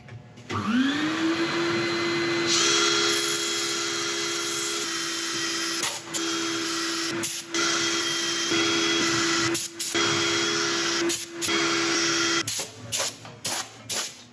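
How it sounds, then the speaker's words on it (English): A high-pitched motorized sander whines continuously on a turned epoxy resin and wood bowl, cutting out briefly several times and restarting, with the grinding hiss of abrasion on a hard surface. "I shall set up for sanding."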